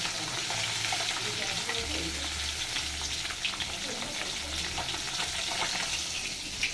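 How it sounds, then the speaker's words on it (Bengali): Fish frying in a pan, a bright, continuous crackling sizzle of hot oil with faint low thuds underneath, steady and close throughout. "মাছ ভাজতেই লেগে যাবে আমার আধ ঘন্টা।"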